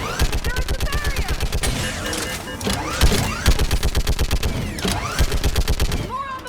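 Rapid automatic gunfire in the video game Mass Effect 3, sustained bursts of loud shots over about six seconds with short breaks, mixed with battle noise and faint voices.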